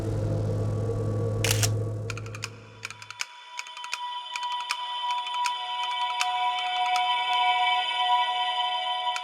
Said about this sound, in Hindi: तू पहले फोटो खींचती हूँ तेरा।